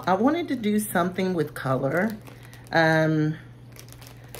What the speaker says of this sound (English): the wig comes in the plastic bag here. So let's take it out.